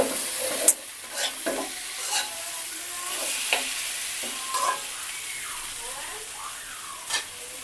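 A utensil stirs vegetables into a spice paste that sizzles in oil in a pan. Steady frying hiss runs underneath, with clear scraping clinks at irregular intervals.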